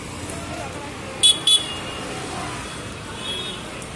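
Busy street traffic during the Mysore Dasara festival, a steady roar of vehicles with two short car horn toots close together, carrying on through the whole stretch.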